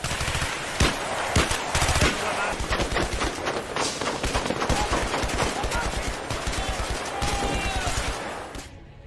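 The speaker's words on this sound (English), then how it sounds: "noise of gunshots coming from behind the mountains got me on my feet" Rapid bursts of gunfire ring out in loud, dense volleys from behind mountains, with sharp repeated cracks overlapping and then cutting off abruptly.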